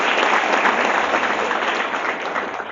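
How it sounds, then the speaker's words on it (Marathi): A college seminar audience claps loudly for a student named Aslam, dense steady applause that gradually tapers off toward the end. "असलमसाठी जोरदार टाळ्या वाजवा"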